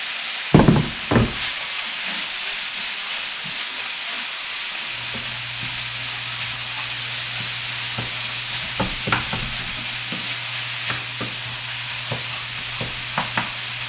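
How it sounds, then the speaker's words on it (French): Onions and mushrooms fry in a pan with a steady close hiss, punctuated by a few sharp knocks and scrapes of a utensil against the pan, with no talk. "on va rajouter nos oignons puis les champignons."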